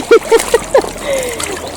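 Water is scooped from a river into a container with a few short splashes and sloshes close by, followed by a gentle gurgle, mixed with brief vocal sounds.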